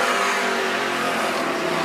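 Outlaw sedan race cars roar past on the Macs Speedway dirt track at night, a loud, continuous engine rush filling the whole moment.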